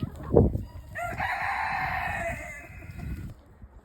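A chicken gives a drawn-out, rising vocal call lasting a couple of seconds, close by, over low rustling and scuffing in the background.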